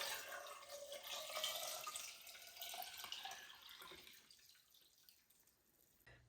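Water pours steadily from a jug into a bucket of eggs being water-glassed, a soft continuous splashing and rushing that tapers off toward the end, faint and without talk.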